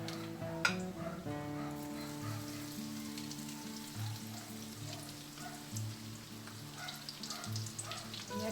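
Chicken pieces fry in cooking oil with a soft, steady sizzle and hiss, heard faintly beneath low background hum and a few clinks, with no one speaking.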